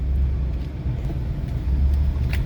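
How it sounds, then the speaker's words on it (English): Pickup truck rolling along a winter logging trail through woods, a steady low engine rumble with rough road noise throughout, fairly close and continuous, no talking. "Never thought I'd be driving a pickup truck through here."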